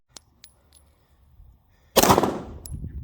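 A single loud Glock pistol shot rings out at a shooting range after a few faint clicks, its sharp crack decaying into a ringing tail.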